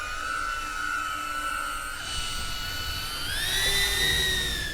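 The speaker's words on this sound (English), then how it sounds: "This drone is very loud and intimidating when you hear it." A loud drone flies overhead with a steady high-pitched whining buzz that holds level, then rises in pitch and grows louder toward the end.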